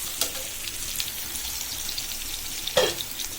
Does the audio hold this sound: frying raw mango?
yes